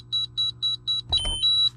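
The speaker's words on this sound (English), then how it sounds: "Let it beep for about 4 to 5 seconds" An Equalizer leveling system control unit on a toy hauler beeps in auto-level mode, giving a steady series of short, evenly spaced electronic tones, then a longer held tone with a brief clatter in between.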